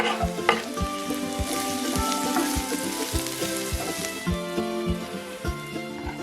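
Carrot frying in butter, with a knob of butter added to the pan alongside onion, makes a loud, steady sizzle, punctuated by regular knocks and scrapes of stirring close by.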